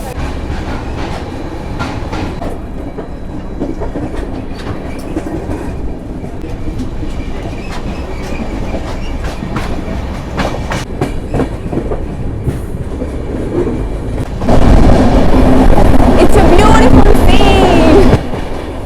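The Rajdhani Express rolls along in Bihar, heard from on board as a loud, continuous rumble with rhythmic clickety-clack of wheels over rail joints. The roar swells sharply louder near the end, with a faint squeal.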